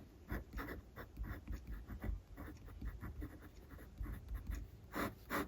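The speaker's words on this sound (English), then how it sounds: "There's some reverse writing for you." A 1942 Sheaffer Triumph fountain pen nib scratches on paper, used upside down for reverse writing, in close, soft, irregular strokes with short pauses and no talk.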